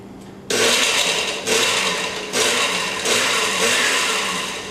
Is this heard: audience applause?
no